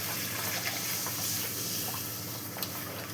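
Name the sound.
pouring a bowl of water into the pan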